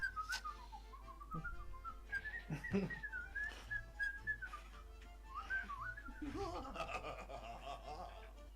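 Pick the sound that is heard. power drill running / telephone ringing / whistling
whistling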